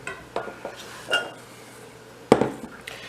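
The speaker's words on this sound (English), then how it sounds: "So there's my celery diced. I'm going to put that in here." Diced celery drops into a pan for cottage pie, giving a few soft scattered clinks and one sharper knock of utensil against metal, quiet and close.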